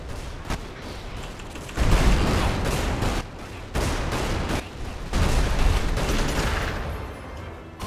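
Bursts of spell fire in the wizard game Magicka crackle and roar in rapid, dense volleys, loud and close, with brief gaps between the blasts.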